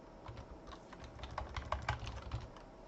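Rapid keystrokes on a computer keyboard as a login name is entered during a Joomla setup, a quick irregular clatter of clicks close by with no talking.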